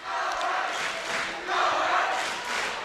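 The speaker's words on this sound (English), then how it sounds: "Whiteface crowd chanting go herd over across the way" At a Lady Whiteface volleyball match against Randall, a high school crowd chants "go herd" from across the gym, with rhythmic swells of shouted voices rising and falling at a moderate distance.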